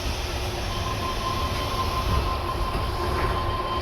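A Sydney Tangara electric train rumbles steadily along the rails with a faint high whine, a continuous close ride-along sound without voices.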